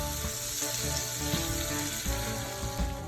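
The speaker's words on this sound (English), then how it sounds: "After the butter is fully melted, then we'll go ahead and add our salmon to the skillet." Salmon searing in melted butter in a skillet, a steady, continuous sizzle and crackle close by with faint clinks, no talking.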